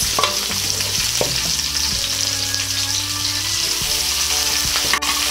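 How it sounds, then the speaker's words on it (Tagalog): Garlic and onion sauté in oil in a pan for adobong kangkong, a loud, steady sizzle close up with repeated scraping stirs of a spatula against the pan and no voices. "Pagkatapos ay halu-haluin lang po natin para hindi po gaanong masunog itong ating bawang."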